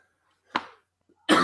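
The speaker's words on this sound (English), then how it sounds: "This broadcast may be interrupted by frequent me coughing." A single sharp cough, then a short pause and another burst of coughing right at the end, close and fairly loud against silence.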